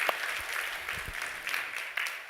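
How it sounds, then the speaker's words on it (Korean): A church congregation at a Sunday service applauds together in a steady, moderately loud patter of clapping that fills a large room for a couple of seconds. "우리 한번 박수 한번 하겠습니다"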